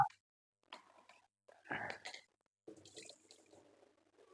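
Faint water running from a tap in short, uneven bursts while rinsing goat blood, with small splashes and gaps of near silence between them.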